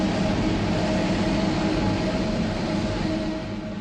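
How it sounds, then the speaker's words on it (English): Expo '70 Osaka monorail train running on the circuit around the main fairground, a steady close rumble and whir that holds evenly and eases slightly toward the end, with no talking. "A free monorail skirts the perimeter of the main area."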